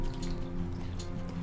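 Cooking water from boiled drumsticks poured into a masala gravy, a short, steady liquid splash and trickle close up, with no talk.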